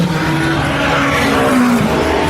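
Ferrari endurance race cars of the AF Corse team roar past at close range in a continuous loud engine howl, with a rising and falling pitch as they pass; no voices.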